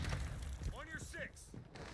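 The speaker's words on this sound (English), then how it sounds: "Reloading!" A weapon is reloaded in Modern Warfare II multiplayer with short mechanical clicks and ratcheting sounds, while a voice speaks over part of it.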